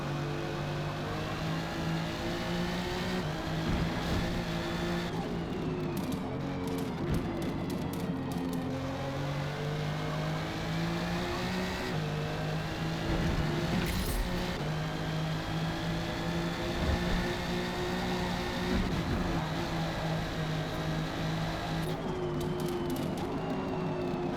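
A McLaren P1 in a racing video game, lapping a track called Maple, revs hard and steady, its engine pitch climbing and dropping through shifts and corners for the whole stretch, loud and close with no talk.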